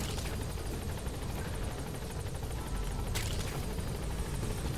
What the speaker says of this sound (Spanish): Espérate, hombre, señor del helicóptero.